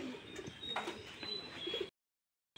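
Pigeons kept by a backyard breeder coo softly among other birds, a few low murmuring calls at moderate distance over steady outdoor background noise, ending in a brief silence.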